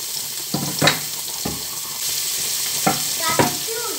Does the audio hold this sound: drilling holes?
no